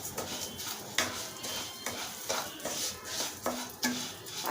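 Wheat rava being stirred into a pan with fried curry leaves for ragi upma, heard as quiet repeated scrapes and taps of a spoon against the pan under a light sizzle.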